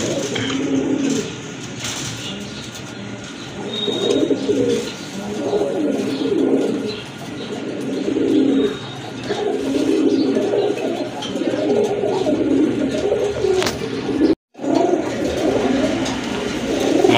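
A pair of black and white pigeons coo in repeated low rolling phrases, close and fairly loud, against a faint background hum with occasional small chirps.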